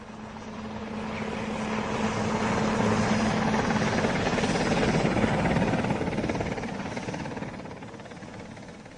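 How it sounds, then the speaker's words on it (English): A relief helicopter arrives, its loud rotor and engine noise swelling to a steady roar before easing slightly toward the end. "Here's the relief helicopter."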